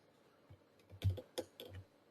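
Computer mouse buttons click in short, close, quiet bursts while a user adjusts a wall polyline in CAD software, with a handful of irregular taps and no talk.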